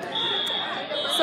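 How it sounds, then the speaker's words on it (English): A fire alarm sounds at a writers' convention, a steady piercing electronic tone held throughout amid faint room chatter. "So what is up with the freaking fire alarm?"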